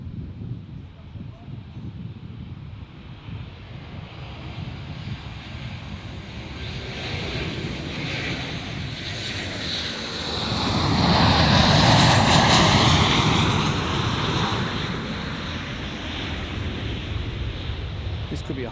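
An airliner coming in to land at Gold Coast Airport: a broad engine roar that swells to a loud, close peak as it passes, then eases into a sustained rumble, with voices talking faintly over the wind noise.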